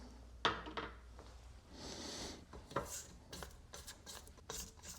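A spatula scrapes brownie batter for a black bean thin mint brownie cake from the sides of a mixing bowl, making a few soft rubbing and scraping strokes with small clicks against the bowl.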